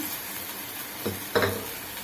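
Vegetables including carrot, green peas, tomato and mint sauté in a pan for veg pulao, giving a soft steady sizzle with two brief stirring scrapes near the end.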